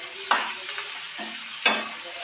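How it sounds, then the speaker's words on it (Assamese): Potatoes frying in a pan with salt, stirred in two distinct scraping bursts over a soft, steady sizzle, close and clear with no talking. "আকৌ অকণমান ধুনীয়াকৈ আলুখিনি ভাজি ল'ম"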